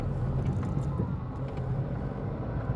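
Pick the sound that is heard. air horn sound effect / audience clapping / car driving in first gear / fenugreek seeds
car driving in first gear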